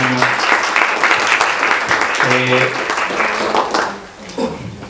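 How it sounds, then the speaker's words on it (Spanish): Audience applause for a guest lecturer at an academic conference, loud close clapping with voices talking over it at times, dropping away near the end before a brief swell. "un aplauso para la conferencista del día de hoy, la doctora Karina Ochoa"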